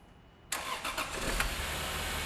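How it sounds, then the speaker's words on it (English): A Lexus IS300's inline-6 cranks and catches after about half a second of near silence, then settles into a steady, fairly loud idle with a few early surges, close by and with no voices. "let's go ahead and fire the engine and see what we got"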